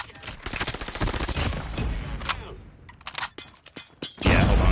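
Rapid bursts of OTs 9 submachine gun fire in COD Mobile, a loud, dense rattle of shots in quick strings with brief pauses, then a heavy final burst, all close and prominent.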